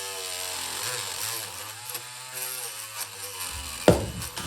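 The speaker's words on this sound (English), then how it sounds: "There are a couple of spots that are pretty raised, so I'm just gonna trim those a little bit with the multi-tool." An oscillating multi-tool buzzes steadily as it trims raised wood spots on a wooden chair leg under repair with dowels. The close, continuous motor whine shifts pitch once early on, and a sharp knock sounds near the end.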